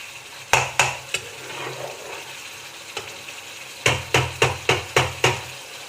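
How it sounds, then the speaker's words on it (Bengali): A spice paste fries in a pan under a soft background sizzle, with sharp metal spatula knocks against the pan: a few at the start, then a rapid run of six or seven close, loud strikes near the end. "এখন মশলাটা কষছি এখন আমি হলুদ দেইনি"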